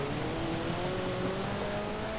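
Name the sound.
race car engine accelerating in Forza Horizon 4 video game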